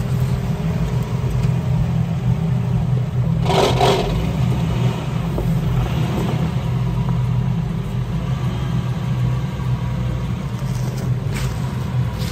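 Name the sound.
damaged American hybrid car driving forward slowly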